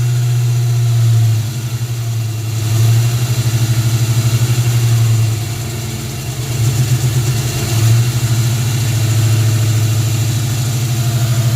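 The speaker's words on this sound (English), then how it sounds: "Let's see if it'll start and idle." A 1994 convertible's engine with the original coil and mass air meter refitted runs at a loud, steady, rough idle for the whole stretch, its low drone swelling and dipping slightly, with no talk over it.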